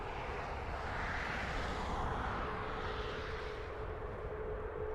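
An aircraft engine roars steadily at Dublin Airport, a broad sustained jet rumble at moderate distance, holding level for several seconds before easing slightly toward the end; no voices.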